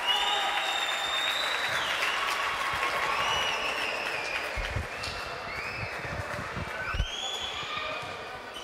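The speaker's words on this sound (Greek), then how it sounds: "Χειροκροτεί και ο κόσμος." Crowd at an indoor basketball game applauding as a player is substituted off, moderate scattered clapping throughout with a few louder thumps from the court, at medium distance.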